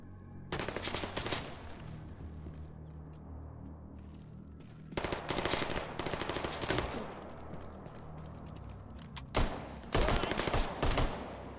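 Rapid bursts of automatic gunfire from enemies in the shooter game S.T.A.L.K.E.R. Clear Sky come in three separate volleys with quiet gaps between, each burst sharp and fairly loud.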